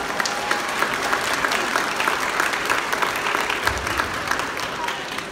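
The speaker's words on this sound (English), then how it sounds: "Let's give her a round of applause." Audience applause at an Oklahoma City Zoo animal show, a steady wash of clapping from a crowd that holds for about five seconds, fairly loud and continuous with scattered louder claps.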